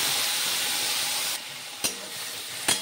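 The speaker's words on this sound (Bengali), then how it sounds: "পেঁয়াজটা একটু ভেজে নেব" Grated onion fries in oil, a dense steady sizzle that drops a little partway through, with two sharp stirring clatters near the end.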